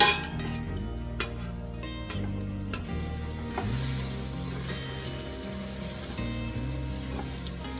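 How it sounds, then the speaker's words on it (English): Vegetables and pepper sautéing in a pan for herbed chicken à la king, a steady close sizzle broken by occasional stirring clinks, with a low tonal hum running beneath throughout. "I'm going to saute this for a few, and then I'm going to add my minced garlic"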